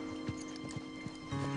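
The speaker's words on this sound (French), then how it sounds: "Il a tout d'un cheval de concours bien dressé." A trained show horse's hooves clip-clop in a slow, even rhythm of several distinct, fairly faint steps over a low background hum.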